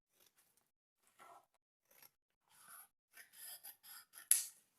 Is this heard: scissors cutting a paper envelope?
yes